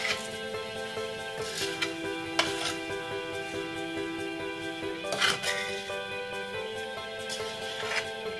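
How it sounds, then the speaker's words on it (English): Stuffed bell pepper filling is stirred in a pan, with soft scraping and clinks of the utensil against the pan over a faint sizzle, close and fairly quiet, with no talk. "Give it a nice, good stir."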